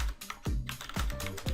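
Keys tapped on a computer keyboard while entering a passphrase for an SSH key, a handful of close, distinct keystrokes in an uneven rhythm with no talking.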